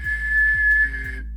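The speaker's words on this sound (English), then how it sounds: "try to hit your whistle, so, and then, since you're blowing outwards, try to bring in your voice to it" A sustained, steady whistle blown outward with the voice added underneath, one clear tone held for about a second over a low hum, then fading out.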